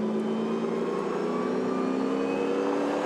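A muscle race car circles Pukekohe Park Raceway, heard as a steady, fairly faint engine drone at constant pitch, with no talking over it.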